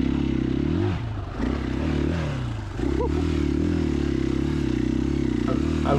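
A 2021 KTM EXC-F 500 dual-sport dirt bike ridden in the rain at Johns Peak OHV, its loud single-cylinder engine droning steadily close up, dipping and rising with throttle changes amid wind and clatter.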